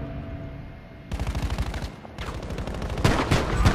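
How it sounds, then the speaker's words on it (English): Gunfire and explosions of a smoke barrage artillery strike in a video game crackle in dense, rapid bursts at close range, with several louder thuds and no talk over them. "I think he's gonna call a smoke barrage."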